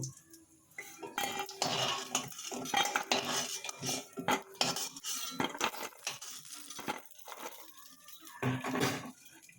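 A metal utensil scrapes and clinks against a wok in irregular bursts, with short pauses between the strokes, as fried lentil dumplings are lifted out.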